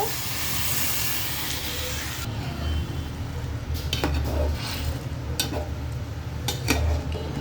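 Hot water poured into a pot of paneer and potato vegetarian biryani, starting with a loud rushing sizzle and hiss that drops after a couple of seconds to a softer bubbling, with a few metallic clinks near the end.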